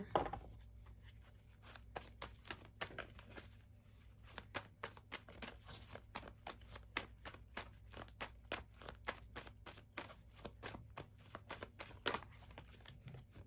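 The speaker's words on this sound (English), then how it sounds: "that's why I shuffle" Tarot cards shuffled by hand in a quiet room, a series of crisp riffling and snapping bursts in an irregular rhythm, close and fairly soft, with no talking.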